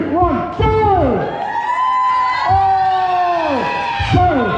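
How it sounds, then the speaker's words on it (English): Shrieking cheers and excited whoops from a crowd of partygoers at a Christmas party, loud and close, rising in several bursts over a few seconds. "Everybody give her a cheer."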